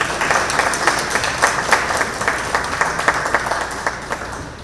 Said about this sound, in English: Let's give him a big round of applause again, please.